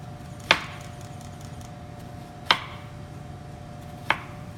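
A knife chops down through an onion on a cutting board: three sharp, isolated knocks spaced about two seconds apart, close and fairly quiet over a low steady background hum.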